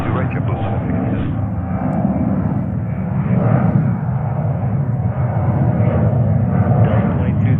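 A JetBlue Boeing 757 takes off from runway 22 right at JFK, a loud, steady engine roar that fills the whole stretch with slight swells and no break.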